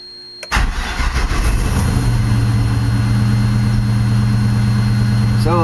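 An LS-swapped Mazda B2200 pickup engine cranks and catches after a brief quiet start, then settles into a loud, steady idle with a strong low hum that holds to the end.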